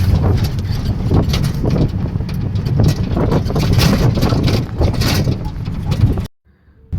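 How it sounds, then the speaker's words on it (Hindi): Wind rushes through a moving auto-rickshaw on a cold day, a loud, steady rumbling buffet across the whole stretch that cuts out abruptly near the end. "क्योंकि इतनी हवा चल रही थी ऑटो में"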